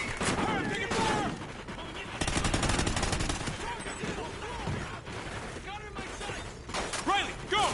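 Rapid gunfire fills a Call of Duty: Ghosts story mission, with dense automatic bursts and mechanical clatter running nearly nonstop, layered with game sound effects and shouted voices.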